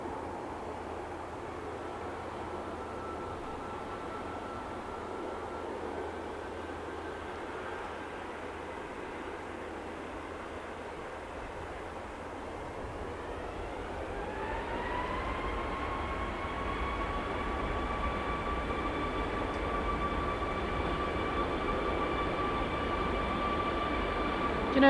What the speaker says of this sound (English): Ryanair heading off to Alicante.